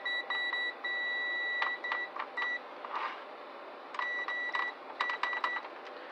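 Digital multimeter with freshly retipped needle probes giving continuity beeps, a run of sharp electronic tones in quick on-off bursts, some held briefly and others clipped short, close and clear with no talking.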